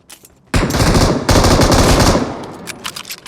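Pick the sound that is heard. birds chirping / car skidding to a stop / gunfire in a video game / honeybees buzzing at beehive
gunfire in a video game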